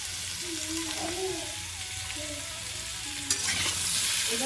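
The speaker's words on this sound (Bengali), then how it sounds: "ছোট আলুর দম হবে, সেই আলুগুলোকে এখন ভাজছি একটু" Small potatoes for aloo dum fry in hot oil in a pan with a steady, close sizzle and a bit of stirring. Voices chatter faintly underneath.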